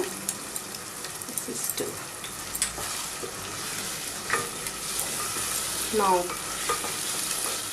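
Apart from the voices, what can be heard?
ginger and garlic frying and stirred with onions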